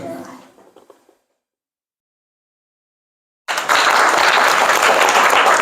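Classroom audience bursting into loud, sustained clapping after a science demonstration testing whether graphite conducts electricity, beginning abruptly after a brief quiet pause and continuing steadily to the end.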